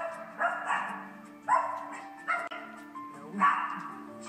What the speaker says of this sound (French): C'est tout à fait normal qu'il aboie.